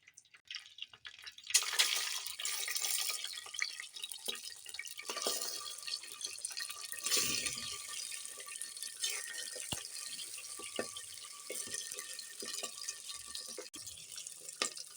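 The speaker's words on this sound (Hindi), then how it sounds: "तो अब हांडी में मैंने ऑयल डाल लिया है। ऑयल गर्म हो गया है। उसमें सबसे पहले मैं इसमें कलेजी ऐड" Chicken liver pieces hit hot oil in a cooking pot, giving a steady sizzling, bubbling hiss that swells after a quiet start and carries on with small pops and clinks, close and fairly loud throughout.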